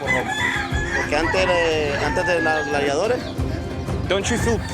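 Roosters crow repeatedly, several drawn-out calls overlapping one another against a noisy crowd at a cockfight in Honduras, with voices talking underneath.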